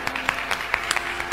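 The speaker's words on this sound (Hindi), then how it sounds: "इनके लिए 2 बार ताली बजाइए।" Audience at a religious discourse clapping briefly, a short burst of scattered, fairly soft claps.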